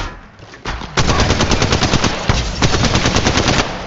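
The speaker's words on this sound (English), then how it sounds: "Shots fired and they're hitting me." Rapid automatic gunfire in the mobile battle royale game Apex Legends, played on an iPhone XR: loud, close, sustained bursts of evenly spaced shots running almost continuously, with brief breaks between volleys.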